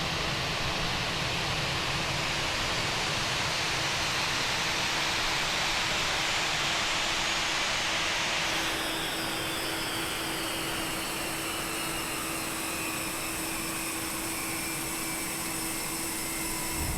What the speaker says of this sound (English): We then turn off engines 1 and 2.